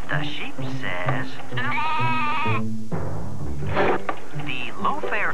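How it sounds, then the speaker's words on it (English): A sheep bleats in several wavering, quavering cries, loud and up close, mixed with other voice-like sounds and a dull thump partway through, inside a television commercial break during 1996 football coverage. "The sheep says."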